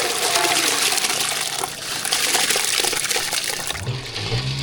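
Water is poured onto crushed jaggery in a vessel to make panakam, a loud, close, gushing pour that runs steadily for several seconds before easing near the end.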